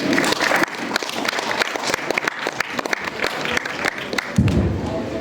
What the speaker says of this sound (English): give a big applause and welcome him